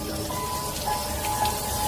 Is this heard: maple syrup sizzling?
no